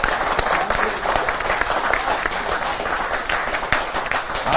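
Enthusiastic audience applause at an Independence Day poetry gathering (kavi sammelan), dense steady clapping from a large crowd filling the hall, sustained at constant loudness throughout with no voices over it.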